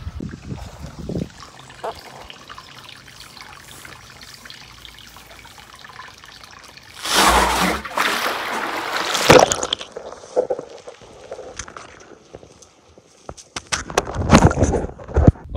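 Water gushes and splashes loudly in a sudden burst outdoors on a farm by a creek, after a stretch of quieter trickling and rustling, with a second splashing surge near the end.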